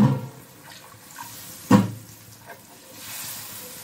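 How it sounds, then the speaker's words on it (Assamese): Water poured into a hot cooking pot of meat for a thin curry, with a hissing sizzle and a sharp splashing burst partway through, then a softer, steady bubbling hiss. No one speaks. "এতিয়া পানী দি দিলোঁ অলপ জোল বনাম"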